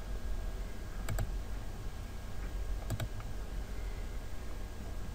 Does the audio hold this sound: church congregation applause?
no